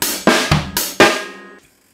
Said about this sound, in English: it's going to be just a simple hi-hat, snare, bass, hi-hat, and snare again, just like this